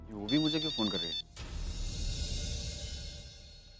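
A phone rings with an incoming call, a short burst of repeated electronic ringtone tones nearby, cut off abruptly and followed by indoor room noise.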